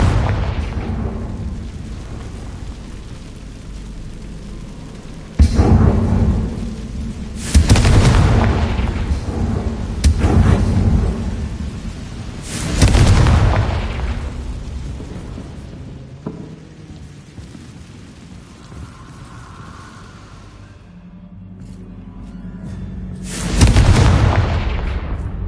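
Confringo spell blasts in the Hogwarts Legacy video game, five heavy booming explosions at irregular intervals, each rolling and fading slowly over a constant rumbling, rain-like background.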